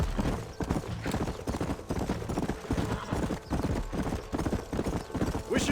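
A horse gallops in the Red Dead Redemption video game. Rapid, loud, rhythmic hoofbeats drive steadily through the whole stretch, with game voices and ambience underneath.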